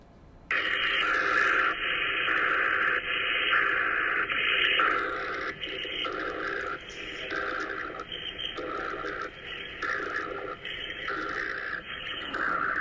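Radio frequency interference plays on a ham radio receiver as a loud, continuous buzzing hiss with a rhythmic pulsing pattern that keeps repeating, starting abruptly and running steadily to the end.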